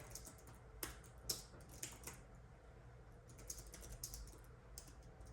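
Typing on a Freewrite Traveler portable keyboard with an e-ink screen, as quick, light key clicks in short irregular bursts, close and fairly quiet, with no talking.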